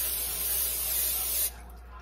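Cooking spray hisses onto small muffin pans in one continuous close burst of about a second and a half, then cuts off abruptly to near quiet.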